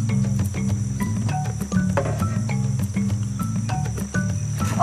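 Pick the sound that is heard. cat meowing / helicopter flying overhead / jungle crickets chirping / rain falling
jungle crickets chirping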